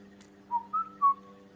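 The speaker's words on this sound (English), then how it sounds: "Could be a sound alert, but no, it's me whistling." Someone whistles three short rising notes, clear and close, with nothing else but a faint steady hum behind.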